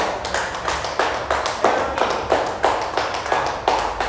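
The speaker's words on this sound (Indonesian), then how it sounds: "Kita berikan tepuk tangan" Children clapping together in a special-needs school classroom, a regular rhythmic pattern of claps in short repeated bursts, near and fairly loud with no talk.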